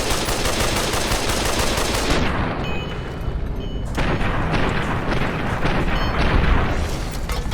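Gas bombs exploding in Fallout New Vegas: Dead Money, a dense, continuous barrage of loud bursts and booming blasts with crackling gunfire-like texture, sustained throughout with brief dips between volleys.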